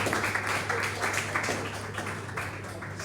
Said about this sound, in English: let's honor him with another round of applause